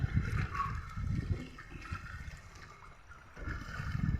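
Floodwater spilling onto a road after a 7.8 magnitude earthquake, a continuous low rushing rumble that surges at the start and again near the end, with no voices.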